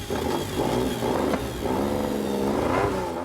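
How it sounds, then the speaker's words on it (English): A high-end Italian sports car engine revs repeatedly in loud, close surges that rise and fall over a steady growl, with no talking. "So I'm revving it up a little bit to make sure that it's not going to break down and backfire."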